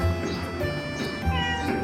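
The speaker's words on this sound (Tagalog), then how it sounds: "Ang paboritong pusa." Cat meowing up close, two loud drawn-out meows with a short gap between them, alone with no talk.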